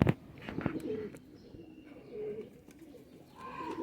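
High flyer pigeons coo in a loft, giving several soft, throaty rolling calls that come close and fairly clear, with faint background rustles and distant noises between them.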